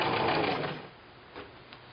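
A sewing machine stitching quilt binding strips together gives off a steady close whirr that stops within the first second, followed by a quieter pause with a few soft clicks.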